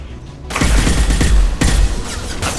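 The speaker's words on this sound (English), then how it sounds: "I'm taking fire." Gunfire erupts in a Mass Effect 2 firefight, a loud, close rapid burst of shots that starts abruptly and keeps going with brief breaks.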